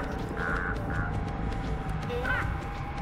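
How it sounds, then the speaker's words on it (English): Crows caw a few times at a distance, with two short calls early on and another a little later, over steady background hum and noise. "We just want crows."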